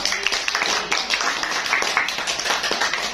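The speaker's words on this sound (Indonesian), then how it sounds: "tepuk tangan dulu dong" A school audience at a short-film production session claps together, a steady, fairly loud patter of many hands filling the room, with faint voices mixed in underneath.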